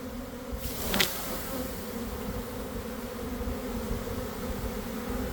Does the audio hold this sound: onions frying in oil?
no